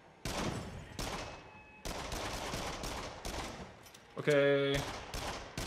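Rapid machine gun fire in the video game Until Dawn: Rush of Blood, several loud sustained bursts with brief gaps, a short electronic tone near the end, and a person speaking briefly.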